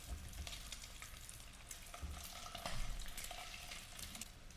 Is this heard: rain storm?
no